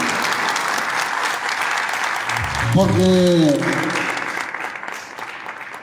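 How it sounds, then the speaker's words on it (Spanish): A crowd applauds loudly and steadily after a speaker's call for a strong round of clapping, with a voice speaking over the sustained applause midway through. "pido un fuerte aplauso"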